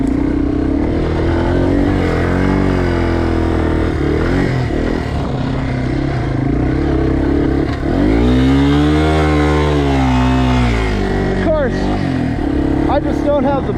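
A 200cc air-cooled dirt bike engine fitted with a big tire runs steadily under riding load, with mid-pitched engine tone that rises and falls as the throttle changes. A rider talks over it throughout.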